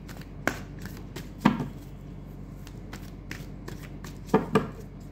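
Tarot cards being shuffled by hand in a quiet room, making soft papery riffles and taps at irregular intervals over a low steady background hum.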